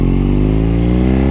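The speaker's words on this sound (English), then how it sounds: "let you guys kind of hear this beautiful exhaust" BMW R nineT motorcycle exhaust idling close by, a loud, deep, steady throb with even pulsing and no other sounds.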